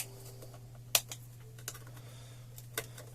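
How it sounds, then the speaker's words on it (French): Small pliers snip electronic components off a board, giving a few sharp, close clicks spread out over a quiet background hum, with no talk. "Je vais prendre la petite pince, ça je vais couper à ras"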